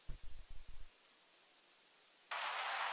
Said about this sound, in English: So what we have here is we have 3 different noise samples.